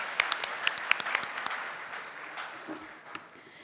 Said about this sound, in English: Please, a big round of applause for Ms. Nidhi Sharma.